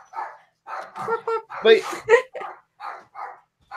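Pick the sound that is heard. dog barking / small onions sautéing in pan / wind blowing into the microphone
dog barking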